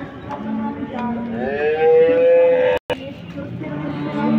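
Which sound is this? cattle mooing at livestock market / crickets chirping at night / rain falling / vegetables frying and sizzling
cattle mooing at livestock market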